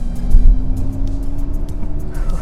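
Mercedes-Benz EQS electric car accelerating on an open road at speed, a steady low rumble of tyres and wind with a faint rising whine, close and continuous.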